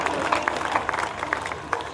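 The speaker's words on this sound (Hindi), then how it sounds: "कविता खत्म होगी, ताली बजाओ" A crowd at a Hindi comedy poetry gathering breaks into scattered clapping after a humorous poem, brisk uneven claps from a modest audience, fairly close.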